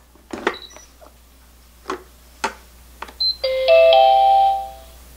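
A six-person pressure rice cooker switches to keep-warm, a few soft button clicks followed by a short, clear electronic chime melody that rings out, close and alone.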